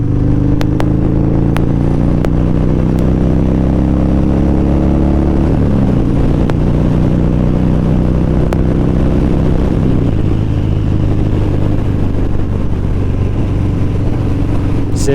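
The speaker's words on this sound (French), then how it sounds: "rouler en Harley" Loud, close Harley motorcycle engine while riding, a deep rumbling drone with shifting pitch as the revs change, running continuously with some wind buffeting.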